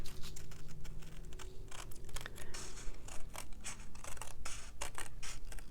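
Scissors snip through paper for a handmade card in a rapid series of close, crisp cuts, short rhythmic bursts with brief pauses in a quiet room.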